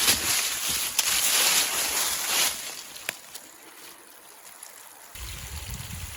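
Water drains out of a micro hydro intake pipe in a steady rushing flow that gradually eases and thins, then picks up again near the end, heard up close with no talk.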